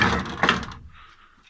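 A heavy old wooden granary door scrapes and creaks open with a short wooden clatter, then a faint ringing tail from a bell as the sound fades out.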